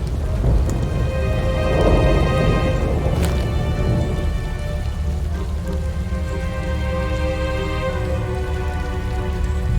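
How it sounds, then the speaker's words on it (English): Heavy rainstorm in the Nancy Drew: Midnight in Salem video game, steady loud rain pattering on surfaces with a rumble of thunder early on, continuous and without talk. "Man, the storm is bad."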